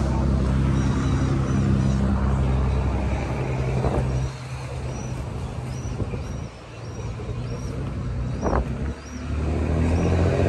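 A car is driven up nearby, its engine rumbling steadily with rises and dips, joined by brief mechanical clunks and bumps; faint background noise, no clear talk.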